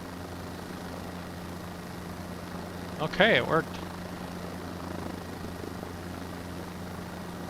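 A hovering helicopter in Microsoft Flight Simulator 2024 makes a faint, steady rotor and engine drone under a brief spoken remark.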